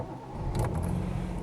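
A Ford Capri 2.8 injection five-speed engine cranks and catches, settling into a steady, close idle with a brief rise in revs mid-start.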